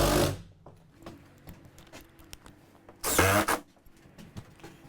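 A power driver whirs in two short bursts, sinking screws through ceiling panels into a cargo trailer being converted into a tiny home, with quiet workshop noise in between.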